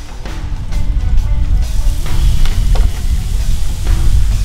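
A hamburger steak patty fries in a pan, a steady loud sizzle with faint crackles and soft scrapes, no voices.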